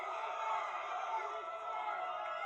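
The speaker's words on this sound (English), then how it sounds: "Raucous crowd and benches for both sides" A raucous crowd and team benches roar in a broad, sustained wash of cheering at a men's college lacrosse game, steady and fairly distant throughout, with no clear single voice.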